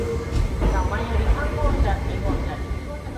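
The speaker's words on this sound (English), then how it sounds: "Platform 5 is reserved exclusively for Spacia X." A Tobu Spacia X limited express train rolls into a station platform with a steady low rumble and light wheel clatter, a voice talking over the approach.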